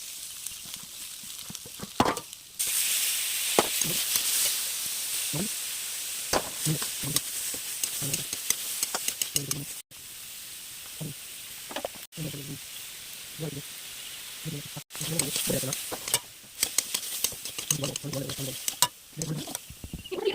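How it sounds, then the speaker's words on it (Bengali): Vegetables with bay leaf, dried chilli, cumin, ginger-garlic paste, tomato and onion fry in oil in a wok, a loud hissing sizzle broken by repeated scraping stir strokes at an irregular pace. "এবার কড়াইতে তেল দিয়ে তেজপাতা, শুকনো লঙ্কা, গোটা জিরে, আদা রসুন বাটা, টমেটো কুচি, পেঁয়াজ লঙ্কা কুচি দিয়ে সবজিগুলো সামান্য নুন ও হলুদ দিয়ে ভেজে নিন।"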